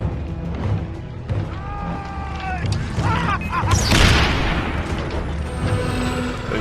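An explosive recurve bow in the Far Cry 3 video game creaks as it is drawn, then a loud burst and crashing blast follow, with the rumble trailing off afterwards.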